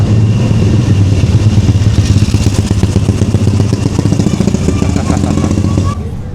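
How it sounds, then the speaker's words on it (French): An old vintage motorcycle rides close behind, its engine a loud, steady low rumble with rapid pulsing throughout, cutting off abruptly near the end amid street noise. "On est suivi par une vieille moto à l'ancienne."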